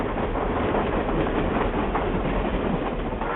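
A train rumbles steadily past at close range, a continuous dense roar with faint rhythmic rattling of the cars.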